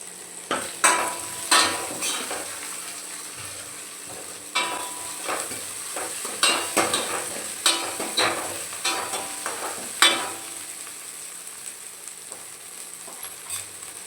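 Cumin seeds sizzle in hot oil as a sambar tempering cooks, with a steady frying hiss broken by sharp clinks and scrapes of a spoon stirring the pan, close and clear.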